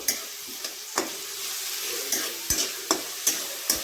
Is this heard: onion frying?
yes